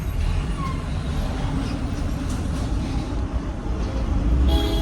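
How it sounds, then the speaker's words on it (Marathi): Steady low rumble of a car moving through a heavy traffic jam, heard from inside, with continuous road noise and no talking. "पप्पा गाडी चालवत आहेत. जाम ट्रॅफिक आहे."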